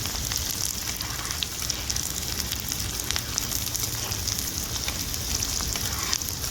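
Onion sautés in a hot pan with green chillies, giving a continuous dense crackling sizzle like light rain, even in loudness and near, with faint utensil taps and no talking.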